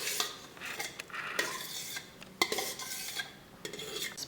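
A metal spoon scrapes and taps against a biryani pot while spreading a layer of rice for Hyderabadi kachche chicken dum biryani, with irregular close clinks and soft scraping strokes and no talk.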